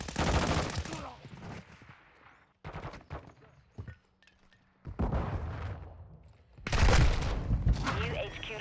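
Rapid bursts of HCR 56 gunfire in Modern Warfare 2 crackle in loud, dense volleys, pausing briefly between fast automatic strings, with some muffled voices in the gaps.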